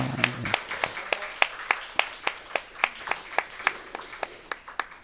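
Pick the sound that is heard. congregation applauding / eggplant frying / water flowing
congregation applauding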